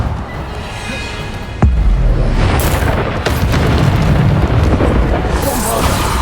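A loud, deep boom from the Bombarda blasting spell in the video game Hogwarts Legacy, one sudden hit followed by a long rumbling roar and further crashing bursts under game noise.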